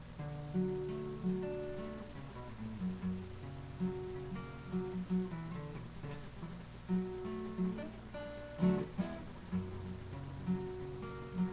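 An acoustic guitar strums chords in a steady, repeating rhythm, ringing clearly and close, with no voices over it.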